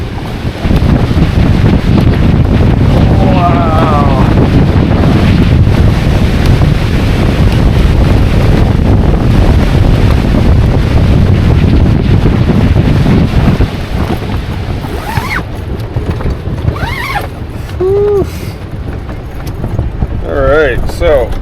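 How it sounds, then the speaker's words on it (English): Tent awning fabric flaps and snaps hard in a strong winter wind storm with snow, a constant roaring gust noise filling the whole stretch, with a brief exclaimed voice partway through. "It's actually the awning material flapping in the wind,"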